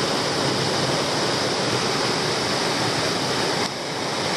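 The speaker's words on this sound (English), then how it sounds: "I'm very surprised this waterfall doesn't have an official name, because it certainly warrants one" Evercreech Rivulet Falls, a waterfall in Tasmania, roars as a dense, steady rush of falling water, loud and continuous, easing slightly near the end.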